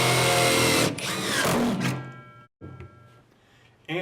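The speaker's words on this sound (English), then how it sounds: "The reverse rake auger tip removes material as it spins, allowing the screw to penetrate the board without splitting." A power driver spins a hidden deck fastener screw with a reverse rake auger tip into a deck board, a loud whirring drive for about two seconds that cuts off, followed by short quieter bursts.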